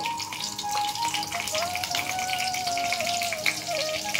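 Whole spices, bay leaves and dried red chillies tempering in hot oil, a soft, continuous sizzle and crackle with light pops close by, no voices.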